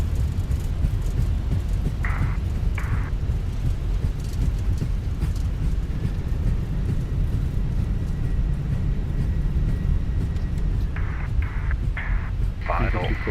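Airbus A319 engines roaring in full reverse thrust during landing rollout in a flight simulator, a loud sustained low rumble with brief beeps and tones over it.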